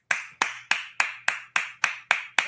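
A single person claps a steady, even rhythm of about nine sharp, close claps with no other voices or crowd.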